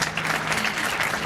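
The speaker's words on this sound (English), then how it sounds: "can we give her a round of applause?" An audience at an economic conference gives a steady round of applause, a dense wash of many hands clapping that holds evenly for the whole moment.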